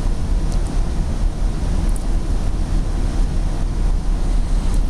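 Steady low rumble and rushing noise while riding inside a Northstar commuter train between Target Field Station and Big Lake, continuous and fairly loud throughout with no talking.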